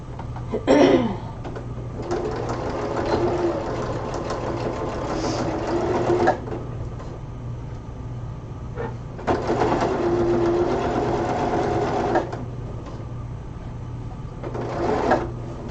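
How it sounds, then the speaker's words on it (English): A sewing machine stitches fabric for a God of War Freya cosplay costume in bursts of steady whirring, with pauses between runs and a brief clunk at the start, close and clear with no talking. "All right, so now I'm going to sew this."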